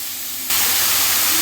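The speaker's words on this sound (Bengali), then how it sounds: "এবার ঘিয়ের মধ্যে এটা আমি খুব ভালো করে ভেজে নেব" Grated carrot hitting hot ghee in a pan, a sudden loud hiss that jumps up after a brief quieter moment and holds as a steady close sizzle.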